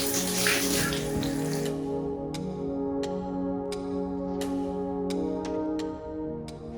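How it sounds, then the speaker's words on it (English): Steady rushing water pours continuously, like a shower running, with a few sharp clicks and taps over the flow. "Time for a shower."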